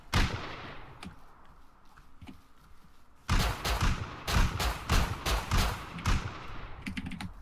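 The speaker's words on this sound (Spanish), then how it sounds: "¿Para qué disparar antes que yo, Gobir?" Rapid bursts of gunfire in the video game Rust crack out in clusters, sparse at first then dense and loud, with brief gaps between volleys.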